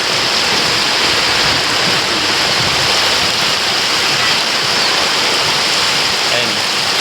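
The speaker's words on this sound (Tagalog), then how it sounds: "nag-aog ang tubig." Steady rushing water from a creek pours continuously and loudly, a dense broadband roar like a stream running through a culvert, with no pauses.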